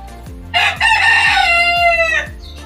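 A rooster crows loudly and close by in one long drawn-out call, with a low rhythmic mechanical thumping and faint chickens around it in a backyard coop setting.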